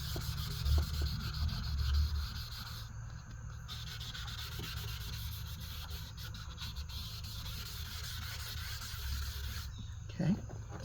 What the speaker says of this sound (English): Remembering to keep in my sandpaper wet.